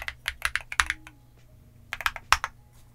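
Quick clacky keystrokes on an MMStudio Class80R2 mechanical keyboard, two bursts of fast typing with a short pause between, close and clear with no voice.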